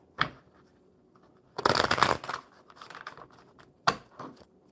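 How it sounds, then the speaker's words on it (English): A deck of playing cards is shuffled during a live card session: a brief riffle near the start, then a loud dense burst of flicking cards, softer rustling, and a final sharp riffle, close up with no talking. "All right, Brittany, one more good shuffle."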